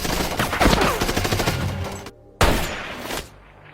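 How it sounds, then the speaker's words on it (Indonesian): A gunfire exchange in the film Machine Gun Preacher: dense, loud volleys of rapid shots, then a brief silence and a final sharp burst that trails off. "Sam yang melihat hal itu, ia pun langsung membalas serangan dan terjadilah aksi tembak-tembakan."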